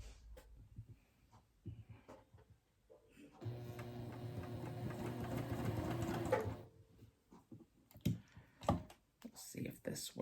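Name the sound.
sewing machine tacking down ribbon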